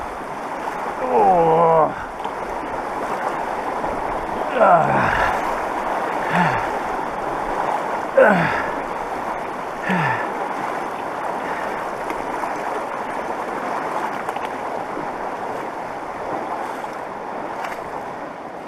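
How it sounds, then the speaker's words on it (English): Rushing river water swirls and splashes continuously as someone wades across a side channel during a backcountry backpacking trip, with a brief exclamation and breathy voice sounds over the steady flow. "And I still got this side channel here to cross."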